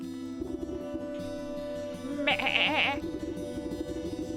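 A goat in the game Wytchwood lets out a wavering bleat in the middle of the clip, set over steady droning background music.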